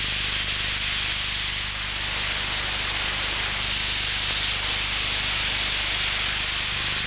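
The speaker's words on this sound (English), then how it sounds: "the Armex Accustrip system quickly removes the thick Vitar coating from the 2-square-foot test panel" Armex Accustrip soda blasting strips a thick 10-coat, 2mm Vitar paint system from a 2-square-foot test panel of a submarine door, giving a loud, steady hissing rush of spray that runs unbroken throughout.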